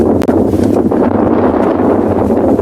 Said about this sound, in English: Listen to the wind picking up again.